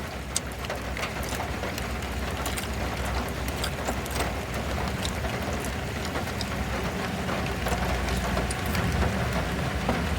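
Steady light rain patters on a surface as a constant hiss, with scattered drops ticking louder now and then, no voices.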